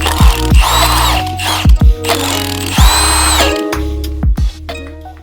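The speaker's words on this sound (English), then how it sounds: "All right, now we can remove our mount bushing." Power tools and a ratchet work on the transmission mount bushing of an Audi Q5, with bursts of whirring driver spin, short pauses and sharp clicks and knocks, loud and close.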